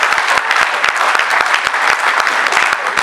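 A comedy show audience bursts into loud, dense applause with sharp individual claps cutting through the continuous roar, sustained throughout.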